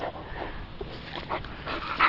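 A dog named Hercules makes soft, close whimpers and yips in short uneven bursts, fairly faint, with no talking over them.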